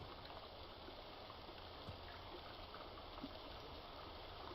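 A waterfall in the 3D Metroidvania video game Poppet Quest gives a steady, faint rushing hiss with no change in level, heard alone.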